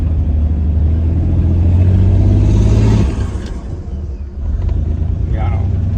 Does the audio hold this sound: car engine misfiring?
yes